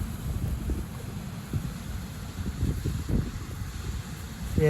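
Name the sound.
strong wind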